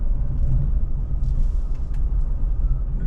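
Tour buses drive past on a road in Phú Quốc, Vietnam, giving a loud, close, steady low engine rumble with faint hissing over the top and no talk.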